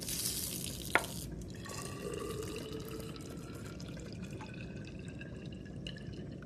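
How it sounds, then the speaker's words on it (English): Water from a sink tap pours into a laboratory graduated cylinder during a specific-heat-of-metals experiment, a faint, steady trickle with a few small drips and splashes, no talking. "So we're just going to fill that at the sink."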